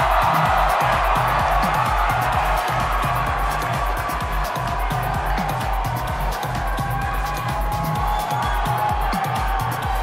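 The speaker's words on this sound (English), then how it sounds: "Yes, another round of applause" A large audience at the Miss Universe 2014 preliminary competition in Doral, Miami claps and cheers in a sustained, dense wash of applause with scattered whoops, steady and loud throughout.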